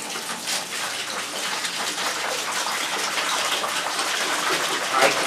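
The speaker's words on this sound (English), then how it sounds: "we want to put some water in the fermenting bucket." Water pours steadily into a fermenting bucket for winemaking, a continuous close rushing gush with no break and no talk over it.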